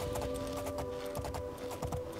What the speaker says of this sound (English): what I assume to be an evil horse.